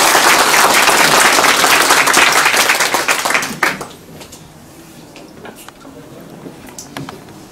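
An audience at a press conference, where a Democratic Party candidate announces a run for Jecheon mayor, bursts into loud, dense clapping. After about three and a half seconds it drops to scattered claps and faint room noise.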